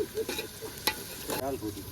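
Tomatoes with cumin, chili, salt and turmeric sizzle in a pan as khichdi is being made, with a spoon scraping and stirring in several close bursts over a steady frying hiss.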